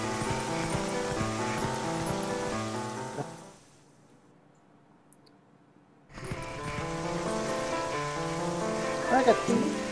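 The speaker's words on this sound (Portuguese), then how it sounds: "Odeio a chuva." Steady rain from Zelda: Twilight Princess fills the scene as a dense, even hiss that cuts out for a couple of seconds before returning at full strength, with game music layered over it.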